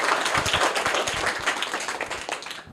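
A group of students claps for a classmate after a correct answer, brisk uneven applause that holds steady for a few seconds and trails off.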